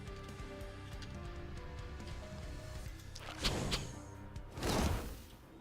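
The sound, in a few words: rain of arrows attack in The Last Spell video game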